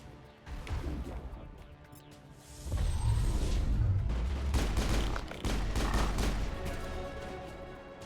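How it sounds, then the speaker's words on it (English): Gun turret firing in the video game Mass Effect, heavy bursts and crashing impacts in a dense, loud barrage that swells after a quieter start, with a whoosh in the middle. "There must be a way to shut that gun down."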